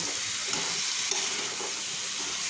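Shrimp and sweet pumpkin frying in a pan while being stirred, giving a continuous bright sizzle with soft scraping movements beneath it.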